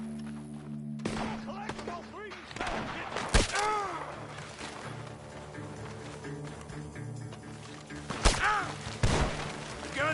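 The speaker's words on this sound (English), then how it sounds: "The gunshots are coming from that barn." Gunshots ring out from a barn in a PS4 video game, a few sharp, loud reports spaced apart amid thuds and movement, with voices talking over the action.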